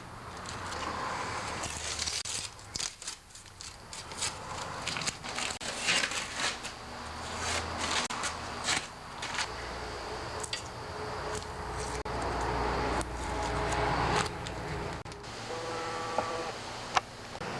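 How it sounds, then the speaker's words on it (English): Painting tape peeled off freshly painted John Deere 316 tractor panels, a long run of crackly ripping and sticky tearing sounds in irregular bursts, close and fairly quiet, with no talking. "I'm ready to take off the painting tape"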